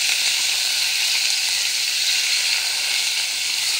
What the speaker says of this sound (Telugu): నెయ్యిలో మంచిగా వేగాలి